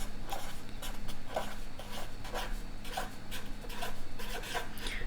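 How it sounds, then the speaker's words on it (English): A pen or pencil writing a word on paper, a series of short close scratching strokes in an irregular rhythm over a low background hum, no talking. "I'm going to write meteorologist down."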